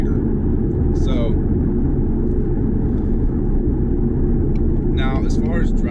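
A 2019 Ford Mustang GT convertible cruises in top gear at about 1250 RPM and 50 mph, its low, steady engine and road rumble continuous throughout, with brief voice snippets over it.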